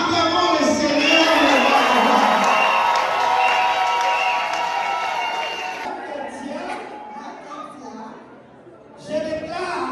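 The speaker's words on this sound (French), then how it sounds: "Acclamons le Seigneur." Wedding guests cheering and acclaiming the Lord, a loud mixed crowd of shouts, whoops and some clapping that swells at first and then fades to scattered voices and a brief burst near the end.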